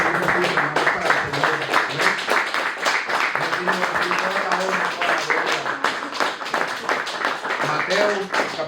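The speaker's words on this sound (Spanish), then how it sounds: "Denle un fuerte aplauso al Señor Jesús" Church congregation applauding during a service, dense steady clapping mixed with voices and cheering, loud and close throughout.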